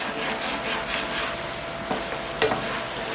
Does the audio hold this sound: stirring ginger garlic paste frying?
yes